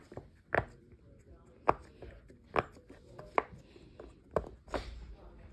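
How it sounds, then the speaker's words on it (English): A pearl Chuckle and Roar Poppet fidget toy is pressed in a series of sharp, close pops, about seven distinct snaps spaced irregularly across a few seconds in a quiet room. "So the first thing is this pearl Chuckle and Roar Poppet."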